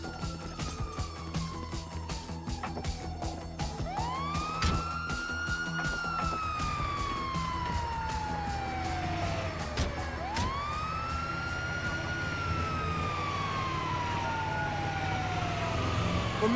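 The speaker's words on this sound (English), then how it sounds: "Oh, it's the ambulance!" A wailing ambulance siren in the Grand Theft Auto V video game, rising and falling in long sweeps over steady traffic and engine rumble, loud and continuous throughout.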